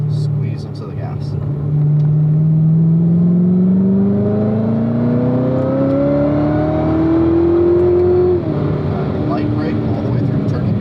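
Car engine accelerating on a cone course, a steady rising drone that climbs in pitch over several seconds, then drops off as the throttle eases, with an instructor talking over it.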